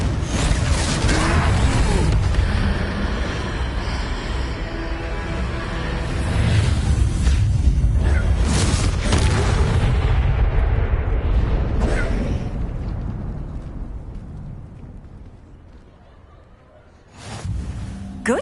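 In the video game Hogwarts Legacy, the Confringo explosive spell blasts during a troll fight, giving long, rumbling, booming bursts over a dense game soundscape that fade out before another burst at the end.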